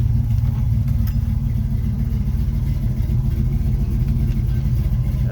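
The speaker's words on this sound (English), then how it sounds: "This car starts great." A 1968 Chevrolet Camaro engine runs steadily at idle after starting, a loud, continuous low rumble heard from inside the car with no talking.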